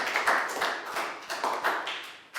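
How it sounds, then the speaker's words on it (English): Year 4 pupils in a classroom applaud a classmate with sharp, quiet, uneven hand claps spaced across a couple of seconds, sounding like a small group rather than a full crowd. "High five, big round of applause for Nadia."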